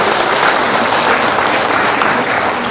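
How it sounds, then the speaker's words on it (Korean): An assembly at a Korean constitutional society election meeting bursts into sustained, dense applause, loud and close, with no talk over it. "여러분의 의지를 담은 박수를 다시 한번 보내주실 것을 여러분께 요구드리는 바입니다"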